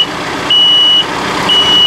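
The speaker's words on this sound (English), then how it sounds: "Press the lower button, tractor will back up." A John Deere 4052R 4x4 tractor backs up with a steady engine hum, while a high, pure reversing beep sounds in long even tones close by.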